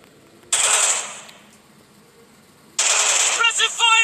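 In a commando strike video game, two loud bursts of automatic gunfire ring out close by with a quieter pause between them; the second burst is choppier near its end.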